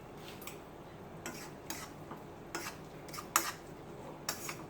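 Creamed spinach gets stirred in a pan, a utensil clinking and scraping against the metal in irregular light taps over a soft, steady background hiss.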